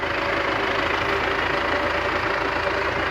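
A Russian-made Belarus tractor engine idles with a steady, even mid-to-low drone and faint knocking texture, running alone at a constant level with no talk.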